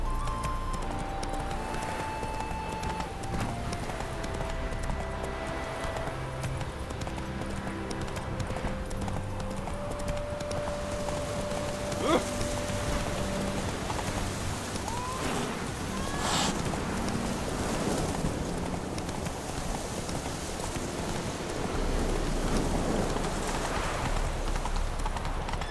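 Horse hooves clip-clop rhythmically at a steady gallop in The Witcher 3, close and continuous, under ambient game music and faint wind, with a brief whinny partway through.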